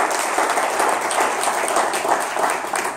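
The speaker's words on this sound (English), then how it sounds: "Give them a round of applause." Audience applause for volunteer organizers at a 1 Million Cups Daytona Beach startup event, a steady, moderately loud patter of many hands clapping together throughout.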